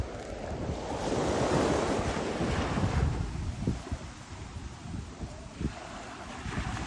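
Surf rolling onto Kaanapali Beach in Maui, a broad steady wash of waves with wind buffeting the microphone, swelling and easing without voices.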